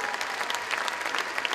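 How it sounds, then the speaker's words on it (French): Brief, dense applause from a crowd at a rugby league club's anniversary evening, steady and fairly close with individual claps standing out throughout. "On l'applaudit, bravo."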